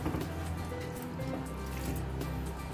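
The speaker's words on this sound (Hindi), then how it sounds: "थोड़ा थोड़ा पानी मिक्स करेंगे।" Water trickles and pours steadily into a bowl of spinach, potato and onion pakora batter, making a continuous wet, splashy rush with no voices over it.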